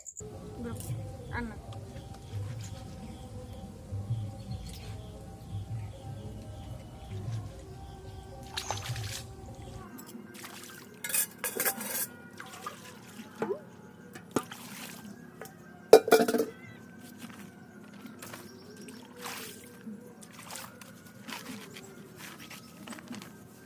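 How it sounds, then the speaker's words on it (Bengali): Fish and utensils are rinsed with water at an outdoor pond in the Sundarbans, giving soft splashes and trickles followed by scattered clinks and knocks of metal and dishes, all fairly quiet and intermittent. "দেখো মাছ ধোয়ার সাথে সাথে আমি যে জিনিসপত্রগুলো আছে সেগুলোও ধুয়ে নিচ্ছি"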